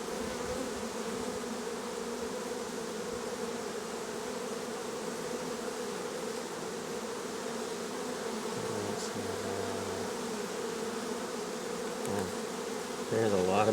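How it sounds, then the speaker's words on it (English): A dense, constant buzz of many bees in an open hive fills the air, close and steady, with no voices. "There's a lot of bees in this hive."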